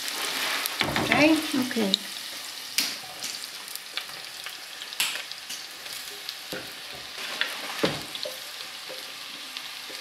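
Onion and broken pasta for a Genovese frying in a pan, a steady sizzle with stirring clatter and scrapes throughout, while a couple of brief voices speak over it.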